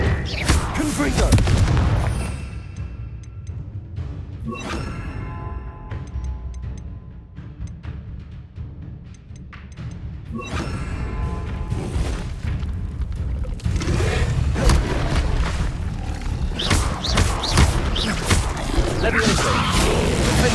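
Repeated blasting-spell explosions and magic combat in Hogwarts Legacy, booming bursts and crashes recurring across the scene, loud and dense with game effects continuing throughout.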